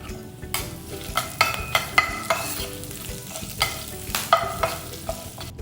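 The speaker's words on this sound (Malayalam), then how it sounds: "ഇപ്പോൾ നമ്മളുടെ മുളകും കറിവേപ്പില എല്ലാം നല്ലപോലെ വറന്ന് വന്നിട്ടുണ്ട്" Chopped green chilli, dried red chillies and a sprig of curry leaves fry in hot oil for a lemon rice tempering, with a constant sizzle broken by a series of sharp spoon clinks and scrapes from stirring.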